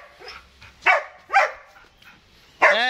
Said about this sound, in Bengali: ওই যে কুকুরটাকে দেখে চিল্লাচ্ছে, যে একটা জঙ্গলি কুকুর।